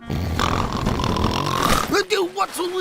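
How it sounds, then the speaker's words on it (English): Cartoon pig character Grandpa Pig snoring in a children's cartoon, a steady loud rasping drone for most of the clip, followed by shorter vocal snorts and sighs near the end. "No monsters here. Just Grandpa Pig snoring."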